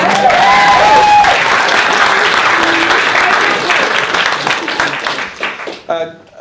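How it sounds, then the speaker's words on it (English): Wedding guests break into loud, sustained applause at a reception during the speeches, dense clapping filling the room before thinning out near the end, with a few voices and cheers mixed in. "round of applause from Mum"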